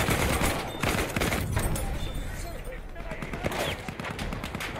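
Rapid gunfire from a first-person shooter video game crackles loudly and almost continuously, with dense bursts of shots layered over a busy game soundscape.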